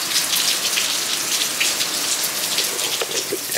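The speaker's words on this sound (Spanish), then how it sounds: "Está lloviendo fuerte." Heavy rain falling steadily outdoors, a dense, even hiss of drops on surfaces that stays loud and constant throughout with no voices.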